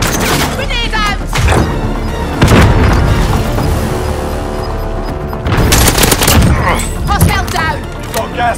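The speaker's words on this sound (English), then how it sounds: "Grenade out!" Grenade blast in Call of Duty: Modern Warfare, a loud booming burst amid rapid gunfire and thuds, with voices talking over the chaotic firefight.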